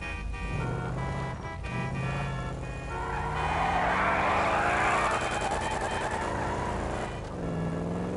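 Car traffic in GTA V: engines hum and swell as vehicles move past in a dense stream, rising to a louder passing roar in the middle before settling back, with no talk.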